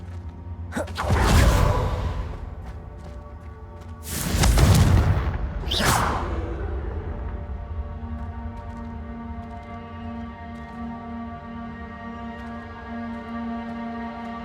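Confringo fire blast spells cast in Hogwarts Legacy, three booming whooshes with bursts near the start, middle and around six seconds, each trailing off into a low lingering rumble.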